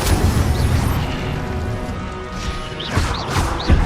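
The Incendio fire spell is cast in Hogwarts Legacy, producing a loud, dense burst of roaring, crashing impact noise that holds throughout with a couple of sharper hits near the end.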